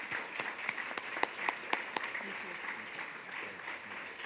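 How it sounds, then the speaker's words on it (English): An audience applauds for Dr. Choudhry, a few sharp individual claps standing out early over a softer steady patter of clapping that gradually thins toward the end. "help me in thanking him with a round of applause"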